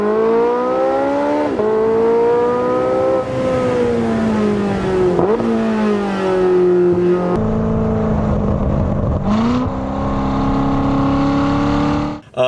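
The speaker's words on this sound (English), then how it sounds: "a rev match on a nice car sounds quite nice as well" A car engine revs during rev-matched downshifts, loud and close, with the pitch repeatedly dropping then blipping up as gears change, steady and continuous with no talking.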